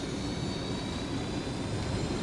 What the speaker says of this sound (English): And I'm just gonna steal this helicopter.